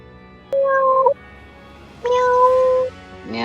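A cat meows twice, each cry a drawn-out, clear, fairly loud tone with a short gap between them, heard close over a quiet room background.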